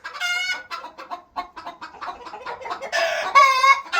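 A hen clucks and squawks repeatedly in a backyard coop, close and loud, with a run of quick clucks between longer drawn-out calls.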